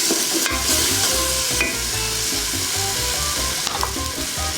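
Garlic for a Mexican chicken soup (caldo de pollo) sizzles and crackles steadily in a hot pot, loud and close, with a few clanks of stirring and no talk.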